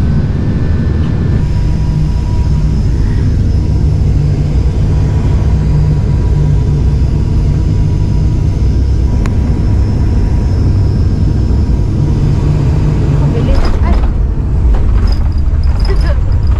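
Steady, loud roar of an airliner's engines and airflow heard from inside the passenger cabin during landing, with a constant low drone and a few faint clicks and rattles near the end.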